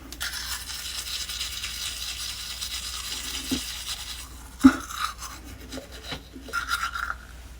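Steady scrubbing of a manual toothbrush on teeth, close and continuous, with a brief knock midway and a few louder strokes near the end.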